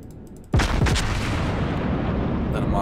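An Iowa battleship fires its main guns at an enemy ship during a naval combat game, one sudden loud broadside crack after a quiet lead-in, followed by a long booming rumble that trails off over the next two seconds.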